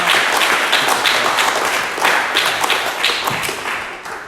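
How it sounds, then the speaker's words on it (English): An audience claps for a speaker at a talk on 1031 exchanges, a burst of close, dense applause with rhythmic clap peaks that gradually tapers over a few seconds. "let's give Joe a round of applause"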